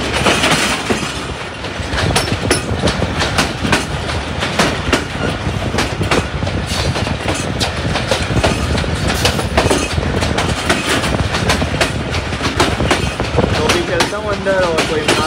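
The 246dn Malkwal Express, a passenger train, leaves Mandi Bahauddin in the early morning with steady rattling and rhythmic clickety-clack from the wheels. The noise is loud and close throughout, and someone talks over it.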